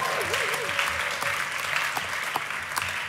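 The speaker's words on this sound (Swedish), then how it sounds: "Stora applåd." Large audience applauding a trombonist at a 2019 live jazz session, steady dense clapping throughout with a few sharper claps standing out, while a sustained tone sounds briefly at the start.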